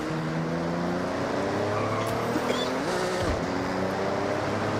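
A racing car engine in Forza Horizon roars steadily throughout, its pitch rising and shifting as the car accelerates and drifts, loud and continuous with no pauses.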